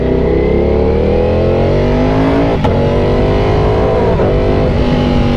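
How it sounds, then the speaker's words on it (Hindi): A Ducati V4 motorcycle engine revs loud and close through the gears, its pitch climbing steadily, with a sharp pop-like backfire cutting through midway and a second, fainter crack later. "एक बार तो इसने बैकफायर मारा है"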